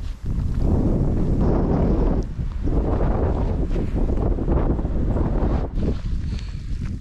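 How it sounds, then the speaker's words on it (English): Strong wind blowing through rock formations in the Valle de las Animas in the Bolivian mountains, a loud continuous roar with gusty swells and buffeting against the microphone, with no talking. "And this wind is the song of the people."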